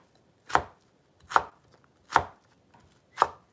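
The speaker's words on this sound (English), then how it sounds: "Do a nice little julienne." A knife cuts thin julienne slices from small planks on a cutting board with four crisp, evenly spaced chops about a second apart, close and clear against near silence.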